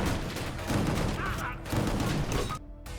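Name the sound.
gunfire against mafia gangs in video game Gungrave G.O.R.E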